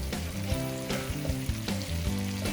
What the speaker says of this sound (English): we're starting to caramelize these sausages, getting a brown little nice coating on them